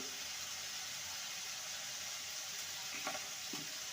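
Sugar being stirred into a kohlrabi curry in a pan, a steady soft sizzle with a few light scraping stirs toward the end, fairly quiet and close.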